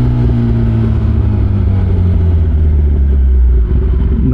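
A Kawasaki ZX-10R motorcycle with quick shift and auto blip revs close and loud, its deep engine note rising and falling in a steady heavy rumble before easing off.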